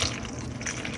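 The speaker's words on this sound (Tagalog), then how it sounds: "I-add natin tong ating tubig." Water pours into a macaron mixture in a home kitchen, a steady close splashing and trickling that runs the whole second without a break.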